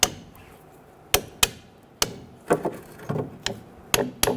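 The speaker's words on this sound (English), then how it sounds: "I like to take a hammer and just tap it" A hammer taps a butterfly spring into its seating, about ten sharp knocks falling in irregular clusters, close and loud over a quiet background.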